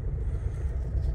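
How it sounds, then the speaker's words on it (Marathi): A car on a highway driving lesson pulling away in second gear after the clutch is released, a steady low engine rumble and road drone close by and continuous for the whole moment, with no voices. "आता सेकंड गिअर, हा सेकंड. क्लच सोड पटकन. आता एक्सिलेटर दे."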